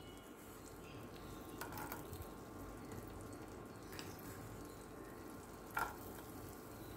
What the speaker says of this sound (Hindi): इसे हम हल्का सा फ्राई कर लेंगे। ये अच्छे से फ्राई हो चुका है।